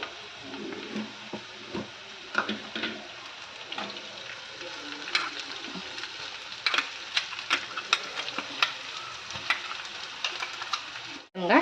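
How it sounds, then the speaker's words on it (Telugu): Green chili paste frying in oil for Kurnool-style uggani, a steady close sizzle broken by frequent scraping and stirring clicks of a utensil against the pan, ending in a sudden cutoff. "ఆ పచ్చిమిరపకాయల పేస్ట్ని కూడా ఆయిల్లో వేసి పచ్చివాసన లేకుండా చక్కగా వేయించుకోవాలి"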